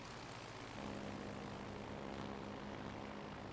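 Propeller aircraft engines of carrier planes in the World of Warships Legends naval battle game, a steady droning hum that swells slightly and holds continuously at moderate level, no voices.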